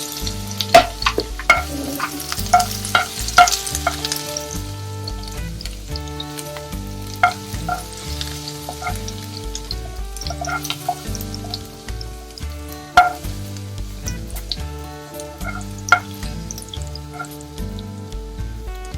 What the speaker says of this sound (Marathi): तेल टाकलं की त्याच्यात लसूण टाकायचा ठेचलेला